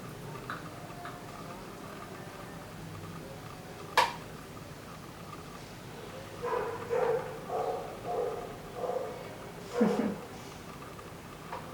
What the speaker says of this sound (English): There's always a dog barking in the background.